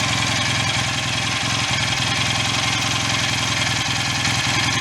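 A rebuilt BSA A65 motorcycle engine idles steadily and loudly close by, with a continuous even throb and a slight uneven lope, alone with no voices.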